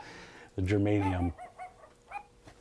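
A single dog bark or yelp sample fired from a sampler pad during a live guitar pedal session, loud and brief, followed by quieter yips.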